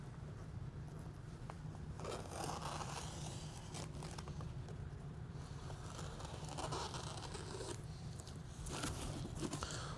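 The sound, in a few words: scissors trimming reflector material on cardboard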